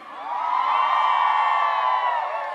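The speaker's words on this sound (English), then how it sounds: "All my beautiful ladies, let me hear you scream." A concert crowd of women at a show in the Kampala Sheraton Hotel screams and cheers, the high-pitched shrieking swelling to a sustained loud roar before easing slightly.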